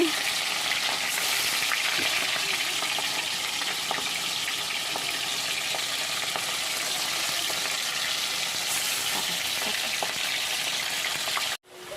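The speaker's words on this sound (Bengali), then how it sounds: "এখন হবে মাছ ভাজা" Fish frying in hot oil sizzles continuously and fairly loudly, a steady frying hiss with occasional crackles and light clinks, cutting off abruptly near the end.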